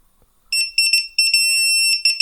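High-pitched electronic beeping from a torque screwdriver, several short beeps followed by one longer sustained tone, then another brief beep.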